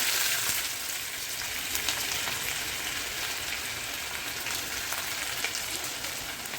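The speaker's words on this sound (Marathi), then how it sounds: "कढीपत्ता जिरा कांदा टाकते" Curry leaves, cumin and onion frying in hot oil make a steady, even sizzle with a faint crackle running through it, close and continuous, with no voices.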